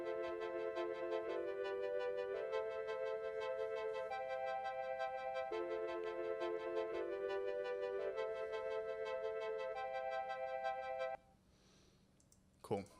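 Sustained synth chords holding steady tones that shift pitch every few seconds, without sidechain compression, played fairly quietly and alone until they cut off near the end.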